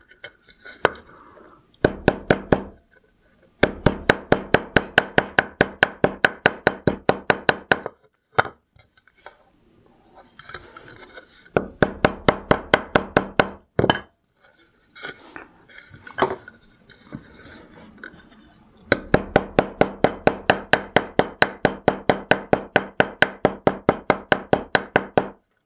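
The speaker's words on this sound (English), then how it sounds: "we're bringing out our wood block and our hammer" Bursts of rapid, sharp metallic hammer taps flattening wire on a hard wooden block, several quick runs separated by short pauses, close and loud.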